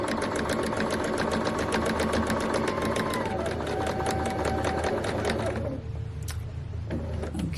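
A sewing machine stitches a scrap fabric coaster in a rapid, even mechanical chatter that runs close and loud, then slows and stops near the end.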